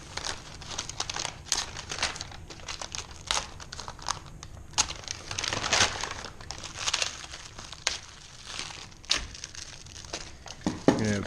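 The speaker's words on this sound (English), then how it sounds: "cut open your polymer block" Crinkling and tearing of plastic packaging as a polymer block for a diffuser is cut open, irregular close crackles and rustles with bursts of louder crumpling throughout.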